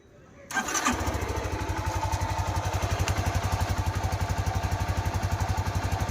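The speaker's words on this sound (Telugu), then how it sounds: "ఇంజిన్ బీటింగ్ అనేది ఎలా ఉందో చెక్ చేయండి" Motorcycle engine with a damaged crank pin bearing starts abruptly, then runs steadily with a rapid, even knocking pulse throughout, loud and close, with no talk.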